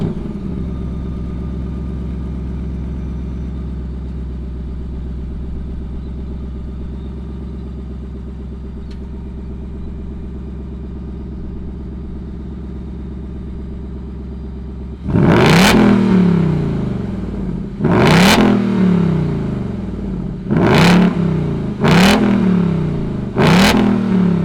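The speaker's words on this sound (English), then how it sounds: "let's fire up this V8 and let her scream." A 2020 Ford Mustang GT PP1's Coyote V8 idles with a deep steady burble, then revs hard several times, each sharp roar rising and dropping back.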